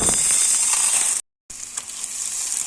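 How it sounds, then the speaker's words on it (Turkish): Tomato paste and dry pasta sizzle loudly while frying in a pan, a steady bright hiss broken by one brief full cut-out before the sizzling resumes. "Yaklaşık 2-3 dakika salçamızı kavuralım"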